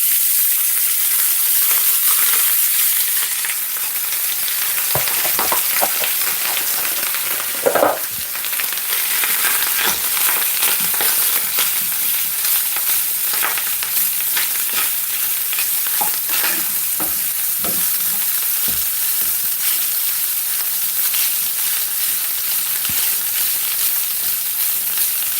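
Rice stir-fried in a hot pan, a loud steady sizzle with irregular scraping and tossing knocks throughout, close up and without speech.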